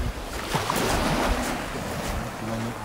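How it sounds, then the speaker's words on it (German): Sea surf rolls onto a beach on the Baltic island of Rügen on an overcast day, a steady close wash of waves with wind buffeting the microphone throughout. "Ja, wie man hört, Meeresrauschen."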